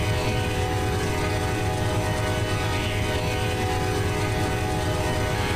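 An Amtrak Auto Train rumbles along in the Run 8 railroad simulator game, a loud steady drone of engine and rolling wheels that holds continuous and close, with no voices.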